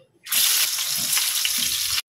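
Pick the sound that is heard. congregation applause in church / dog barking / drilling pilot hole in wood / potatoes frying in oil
potatoes frying in oil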